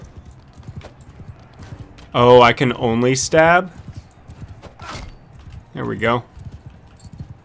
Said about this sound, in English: Yes, there are horses.